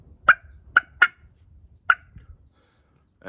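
A turkey call imitating a hen's cluck, played outdoors for turkey-season practice: four sharp, separate clucks at uneven intervals, close and clear, then one more note starting at the end over a low background rumble.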